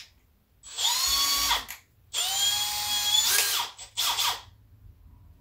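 A power drill drives screws into a pocket door deadbolt in three close bursts: two longer whining runs that rise in pitch, then a short final spin, each with a little ratcheting at the end.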